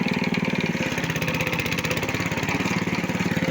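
A homemade self-propelled sprayer vehicle's engine runs steadily at low revs, a close, continuous, evenly pulsing chug with a rough shaking rhythm and no change in speed.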